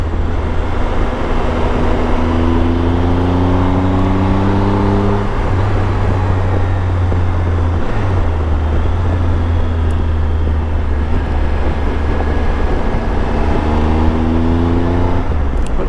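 Triumph Tiger 1200 motorcycle riding on cold roads, a loud steady engine drone with rising pitch through gear changes and heavy wind rush, continuous and close.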